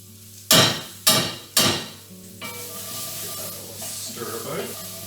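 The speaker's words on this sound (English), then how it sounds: "I've got 2 cloves of garlic, which I'm just going to mince in." Garlic cloves for a one-pan braised rice dish are minced or crushed with three sharp, evenly spaced thuds, followed by softer scraping and a low sizzle from the pan.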